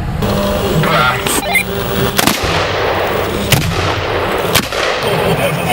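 Rifle shots from an AK-47 strike a purpose-built armored truck, several sharp loud impacts spaced a second or so apart over steady background noise, with voices heard between hits.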